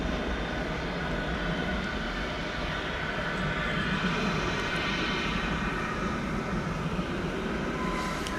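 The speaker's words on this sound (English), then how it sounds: "Flight coming in there was from Santa Ana, American Flight 2659, I think it was. 737-800." An American Airlines Boeing 737-800 arriving at DFW Airport, a moderate, steady engine rumble and hiss that swells slightly mid-pass, heard alone.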